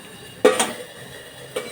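A metal lid comes off a cooking pot on the stove with a sharp clink and scrape, then a second lighter knock of metal a moment later, close and distinct.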